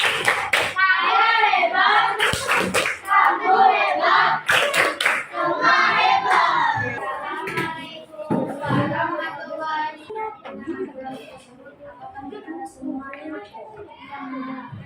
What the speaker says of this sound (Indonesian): Kalau itu, tepuk hebat!